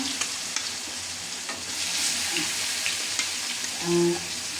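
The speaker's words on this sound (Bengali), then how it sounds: "এই যে কই মাছগুলো তেলের মধ্যে এখন আমি ছেড়ে দিলাম।" Koi fish dropped into hot oil sizzle loudly and steadily, with a gentle hiss building through the middle and brief bubbling pops near the end.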